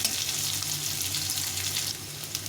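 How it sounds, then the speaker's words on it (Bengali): Bitter gourd and potato fry in a pan in a steady, bright sizzle that holds evenly throughout, close and fairly loud with no voices. "উচ্ছে আলুটা ভালো করে ভেজে নেবো"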